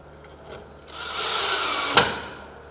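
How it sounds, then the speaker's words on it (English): A power drill drilling a hole in wood whirs up and runs steadily for about a second, ending with a sharp knock as it stops. "So we drill a hole here, in the middle, and on the side."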